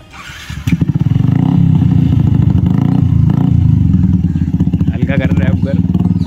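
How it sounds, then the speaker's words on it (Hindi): A Bajaj Discover 150 motorcycle fitted with an SC Project aftermarket exhaust fires up close by, then settles into a loud, throaty idle with a fast pulsing beat and light blips of throttle. A voice talks over it. "अब जरा इसे स्टार्ट कर दे भाई, अभी तुम्हें साउंड सुना तो SC प्रोजेक्ट की"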